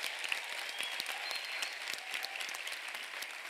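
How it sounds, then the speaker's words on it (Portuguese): A youth congregation at an adolescent church service applauds, quiet and somewhat distant, with scattered sharp claps standing out over a soft continuous patter for a few seconds. "E vamos aplaudir essa galera bem forte."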